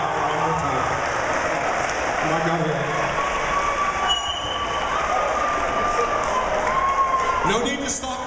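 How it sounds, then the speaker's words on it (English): Audience applause and cheering fill a room, a dense continuous roar of clapping with voices mixed in and a few whistle-like tones near the end. "One more round of applause"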